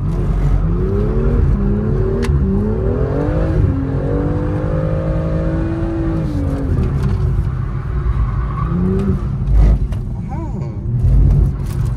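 A car lapping the Bourbonnais circuit, engine droning steadily up and down through the gears as it accelerates and eases, heard from close by with a voice talking over it.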